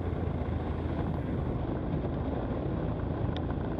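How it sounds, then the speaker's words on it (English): Citabria light aircraft engine droning steadily during a spin, a loud continuous roar with rushing wind, close and unbroken without speech. "Here we're spinning a Citabria and we're gonna do a few rotations before the recovery"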